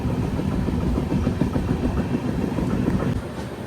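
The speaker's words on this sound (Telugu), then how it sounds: "మన ఇంజన్ ఆల్రెడీ ప్లాట్ఫామ్కి ఎంటర్ అయిపోయింది" Kacheguda Weekly Express hauled by a WAP-7 electric locomotive, a steady loud rumble and hum of the train near a railway station, continuous without voices.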